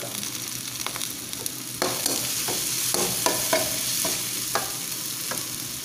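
Curry leaves sizzle and crackle in hot oil while frying for a camel meat gravy, a steady close hiss with scattered pops and stirring clicks throughout.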